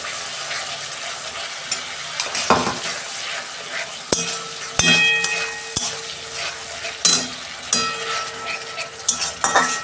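A paste of dry chili, ginger, garlic and cumin sautés in hot oil, a continuous sizzle broken by repeated scraping and stirring strokes and sharp clinks of a utensil against the pan.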